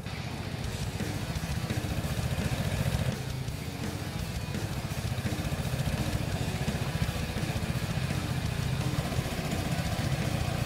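Vespa Sprint and Primavera scooter engines buzz steadily and loudly in a drag race, a continuous rasping drone with no pause and no talking.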